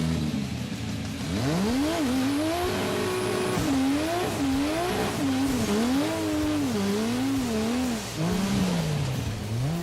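A Dodge Charger's engine screams at high revs and bounces repeatedly off the rev limiter during a drag race, a loud sustained roar with rising and wavering pitch, close and continuous for about ten seconds.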